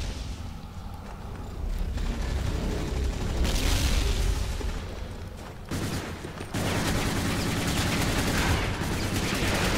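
STG-44 assault rifle fire in the Zombies Monsters Robots game: loud sustained bursts of automatic gunfire with booming impacts, pausing briefly partway, then resuming in a dense, continuous volley.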